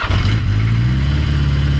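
A Yamaha XJ650 motorcycle engine catches with a quick crank and settles into a loud, close, steady idle with fuel enrichment on.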